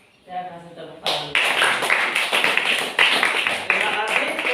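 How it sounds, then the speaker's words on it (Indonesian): Applause in a classroom, a burst of many hands clapping together, loud and steady after a brief voice at the start. "Saya kasih tepuk tangan."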